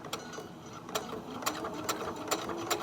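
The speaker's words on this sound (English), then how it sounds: "So I'm gonna stitch a little bit" A sewing machine stitches a fabric mask in short runs, its needle clattering close and clear, with sharp mechanical clicks recurring about every half second and nobody talking.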